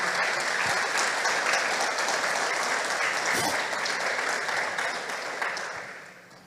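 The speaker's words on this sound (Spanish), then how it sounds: "Dale un aplauso a Dios porque es así." Sustained applause from a crowd, steady and full for several seconds before tapering off toward the end.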